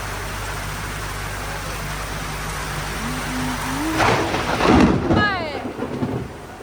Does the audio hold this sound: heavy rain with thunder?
yes